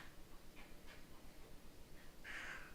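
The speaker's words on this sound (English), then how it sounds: "my dog's making all kinds of weird noises back here" A dog makes odd whimpering, panting little noises somewhere nearby, faint and intermittent, with a slightly louder whine toward the end and no talking.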